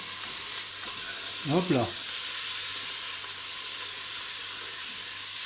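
Chicken and onions frying in a pan give a loud, steady sizzle and hiss throughout, with a brief scraping stir partway in and a short spoken exclamation over it.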